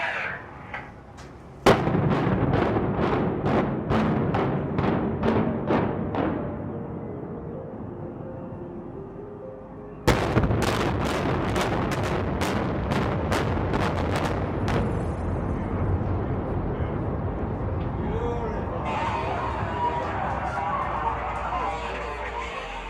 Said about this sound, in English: With fireworks and a grand spectacle, this demolition showcased the entertainment capital's flair for the dramatic